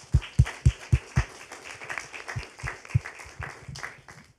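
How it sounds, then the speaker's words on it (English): Audience applause at the opening of a food and farming conference starts as a few firm, evenly spaced claps, then loosens into scattered, softer clapping that thins out. "please give a welcome with a warm applause to our guest"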